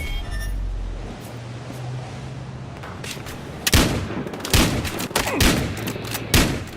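Gunfire in the video game Battlefield Hardline during a multiplayer match: after a quieter opening, several loud, sharp shots and bursts crack out close by in the second half.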